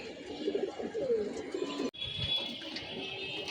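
Pigeons at a loft, with young birds flying up, give low cooing calls over a constant outdoor hum, followed by a brief sharp cut in the sound and quieter ambience.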